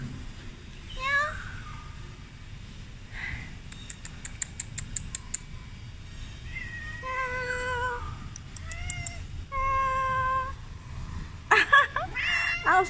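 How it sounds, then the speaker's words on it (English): Repeated meows from a cute cat outside after rain, spaced calls of varying pitch heard close up, with a clicking rattle in between and a sharper burst of cries at the end; background voice and ambient noise underneath. "I spotted a very cute cat."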